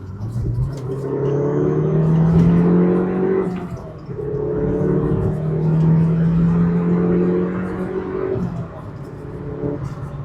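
A 2000s MK1 Ford Focus RS hot hatch accelerates hard down a straight, its engine note climbing steadily with two dips at gear changes, heard from inside the cabin.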